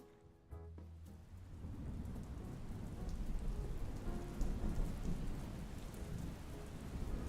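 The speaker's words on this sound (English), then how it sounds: "Love the rainstorm sounds" Steady heavy rain pours onto surfaces during a thunderstorm. Low thunder rumbles build beneath the downpour, which swells and stays dense throughout, with no voices.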